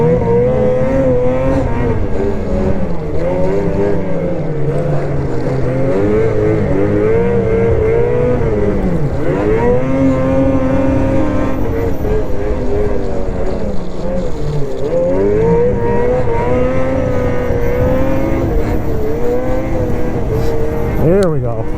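XRS 600RR sport motorcycle engine running hard while ridden, a loud, steady, close drone whose pitch climbs and dips with each throttle change across the whole stretch, with wind roar underneath.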